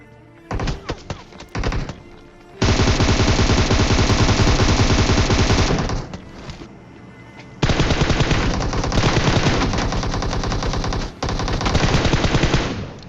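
Gunfire in the video game PUBG Mobile, long sustained bursts of rapid automatic shots broken by brief gaps, loud and close, with a few scattered single shots and no voice over the firing.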